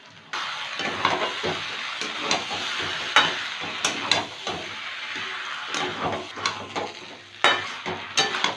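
Banana flower and chickpea curry with slit green chilies cooks in a pan: a steady low sizzle with repeated scraping stirs and occasional sharp utensil clinks against the pan, close and moderately loud, with no talking.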